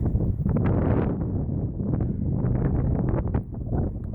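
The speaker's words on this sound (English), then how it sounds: "As you can tell, it's quite windy up here." Strong wind buffets the microphone on an exposed hilltop during a countryside walk near Sheffield, a loud, continuous low roar with gusting swells and no clear speech.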